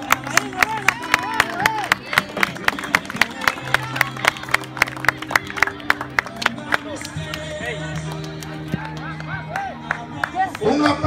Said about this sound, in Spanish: Un aplauso para Juan Laírez